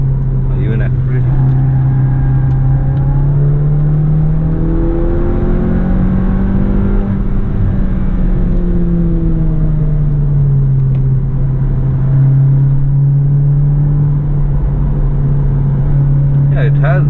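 An RS245 motorcycle engine hums steadily on track day at Buddh International Circuit, its pitch gently rising and falling, loud and close throughout.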